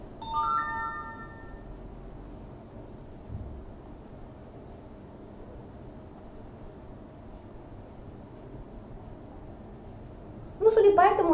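A mobile phone's SMS notification tone chimes briefly at the start as a short melodic ringtone, and a louder burst of tones returns at the very end, over a quiet, steady indoor background.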